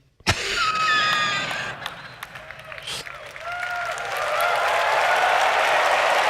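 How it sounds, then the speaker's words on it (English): A keynote audience in a large hall breaks into applause after a brief pause, the clapping swelling loud, then thinning under a man's amplified speech, and building back up near the end. "let's clap for the thing that's going to"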